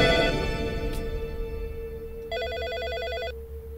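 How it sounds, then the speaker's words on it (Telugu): A telephone bell rings in one clear burst of electronic trilling, following a louder room scene with a low background hum, in a Telugu film scene. "ఆ ఫోన్ తీయవే"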